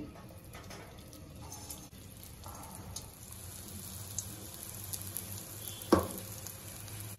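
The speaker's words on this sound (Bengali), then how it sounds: "এবার আমি কলাইয়ের ডালের বড়াগুলো ছেড়ে দেব।" Steady oily sizzling of black gram lentil fritters frying in hot oil in a pan, with a brief louder crackle near the end; no voices.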